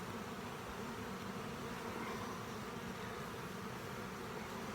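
Bees swarm and buzz inside a hive, a steady, dense drone that holds evenly from start to finish with no voices.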